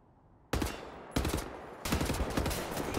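Gunfire in the shooter game Wolfenstein: The New Order: three loud, dense bursts of automatic fire, each starting abruptly and rattling on, the last one sustained to the end, with no talk.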